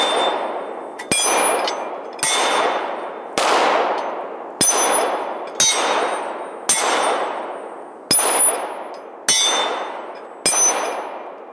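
Pistol rounds from a Beretta 92 FS Inox striking distant steel plates, ten sharp metallic clangs spaced about a second apart, each ringing and decaying before the next hit, with no talk.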